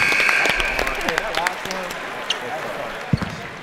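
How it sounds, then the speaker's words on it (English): A crowd at a dunk contest claps and cheers for a contestant, with a ball bouncing on the court and people talking over the steady applause. "Give him a round of applause"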